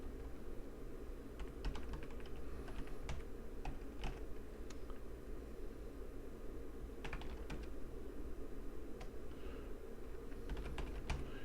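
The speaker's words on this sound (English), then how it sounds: "I'll type it." Steady typing on a computer keyboard, irregular clusters of key clicks over a constant low hum, close and moderately quiet, no speech.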